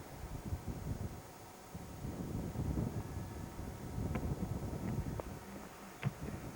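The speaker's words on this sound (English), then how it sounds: "It's quite windy." Wind buffets a microphone outdoors on a trip in Ireland, producing a low, steady rumble with a few brief gusty thumps near the end.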